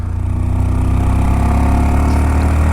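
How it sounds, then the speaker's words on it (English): A Honda Monkey small motorcycle engine held at full throttle in second gear, a loud, steady, close buzzing drone with no voices. "Second gear 25 and full throttle."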